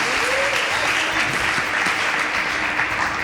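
Audience applauds a band at a TV show: dense, steady clapping that fills the whole stretch with even loudness, with a faint voice or cheer briefly showing through.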